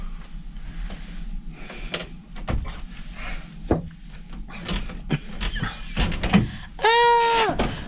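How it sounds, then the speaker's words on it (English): A cabin balcony door on the Sky Princess cruise ship is handled and slid open, with clunks and knocks of the handle and frame, some shuffling and a breathy sound near the end. "Am I opening the door and everything?"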